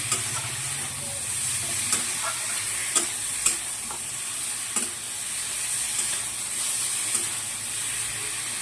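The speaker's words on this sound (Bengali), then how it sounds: "মশলাটা কষানো হয়ে গেলে কষানো হয়ে গেছে" Spice paste with onion and green chilies being sautéed for a thin katla fish curry with vegetables, a steady close sizzle and hiss with periodic sharp scrapes of a spoon against the pan, no talking.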